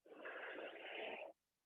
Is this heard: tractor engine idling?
no